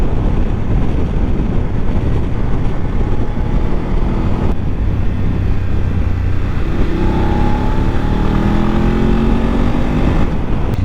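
A BMW F850 GSA motorcycle rides through bends, its engine droning steadily under heavy wind rush on the microphone, with a rising engine tone in the later part.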